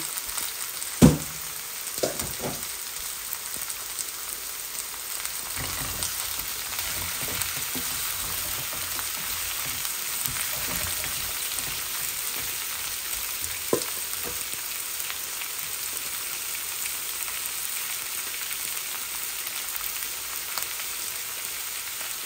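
Carrots and courgettes sizzle steadily in a frying pan with rohu fish, a continuous close hiss broken by a few sharp clatters of stirring near the start and midway, with no talking.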